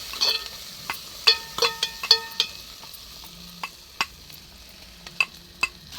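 Chicken with turmeric and ginger sizzles gently in a pan while a utensil scrapes and taps against the metal in irregular strokes, close and moderately quiet, with no talking.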